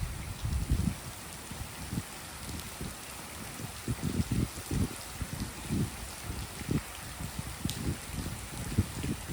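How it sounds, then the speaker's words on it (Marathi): Heavy rain falls steadily with a constant hiss during a sudden storm while out fishing, with irregular low thumps and rumbles, like drops or gusts hitting a surface, coming and going. "पाऊस पण भरपूर आलाय"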